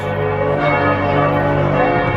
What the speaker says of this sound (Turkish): Karşılıksız çanlar çalıyordu.